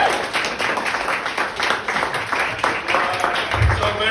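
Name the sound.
audience applause at comedy show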